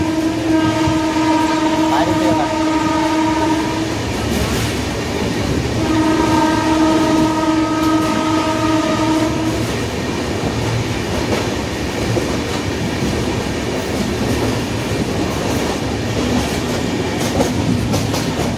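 The Sealdah Puri Duronto Express passing Dakshineswar, with a loud continuous rolling roar of wheels on track and two long sustained horn blasts, one early and one mid-run, heard from on board.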